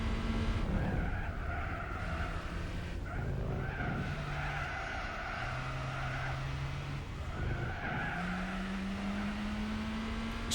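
Tires squealing on a Golf GTI racing in the Gran Turismo 4 video game, a continuous loud engine drone with sustained tire-squeal tones rising and falling through corners, no talk.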